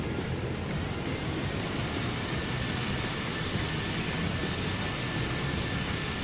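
Loud, steady roar of a Boeing 737 in the X-Plane 11 flight simulator during a go-around, broadband jet engine noise with a faint whine, continuous and close throughout.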